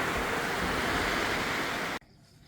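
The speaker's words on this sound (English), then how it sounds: "It's raining very hard." Heavy rain pours down outdoors near a garden fence lined with bougainvillea, a dense, loud, steady hiss filling the air for two seconds before cutting off abruptly.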